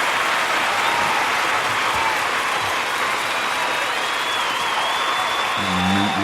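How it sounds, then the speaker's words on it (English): A small studio audience on a talk show gives a round of applause, steady dense clapping throughout, with a brief voice surfacing near the end. "Neat little round of applause for me right there in this nice show."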